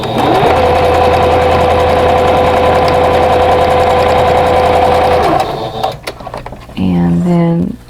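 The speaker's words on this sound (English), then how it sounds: "I'm just going to stitch" A sewing machine stitches a quilt block a quarter inch from the raw edges in one loud, steady run of about five seconds, then stops amid handling noise and a brief voice.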